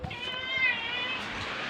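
A pet cat gives one drawn-out, fairly close meow in a quiet house, with no voices.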